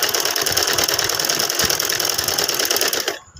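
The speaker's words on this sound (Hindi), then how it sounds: "पलट के हम इधर इसको एक बार और इसके ऊपर सिलाई लगा लेंगे।" Sewing machine stitching a fabric sleeve, a steady close rapid mechanical whir that runs without a break and stops abruptly near the end.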